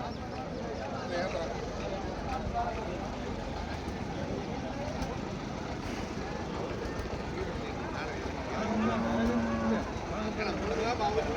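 Water buffaloes at a buffalo market call out with low moos amid a dense, steady crowd din, one drawn-out bellow standing out near the end, with people talking throughout.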